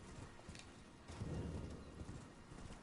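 Horse hooves clip-clop steadily at a walking pace while riding in a video game, a soft, even rhythm of hoofbeats with no voices over them.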